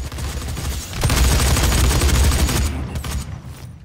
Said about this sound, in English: A shotgun. Super shotgun.